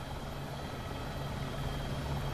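Steady rotor drone and engine whine of a Dreamfoil AS350 helicopter flying in the X-Plane flight simulator, a continuous even hum that holds without a break and with no talk.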